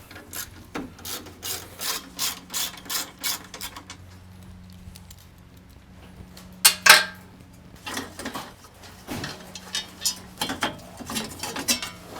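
Ratchet clicks in quick repeated bursts as 10 mm bolts are backed out of the AC condenser on a Buick Encore or Chevy Trax, with close metallic rubbing and clatter between runs and a short sharper clank partway through.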